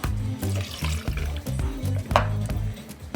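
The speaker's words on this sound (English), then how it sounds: "we're going to start adding our ingredients into the shaker" Vodka pours into a cocktail shaker holding ice, a gurgling liquid stream broken into short rhythmic glugs with a faint clink of ice.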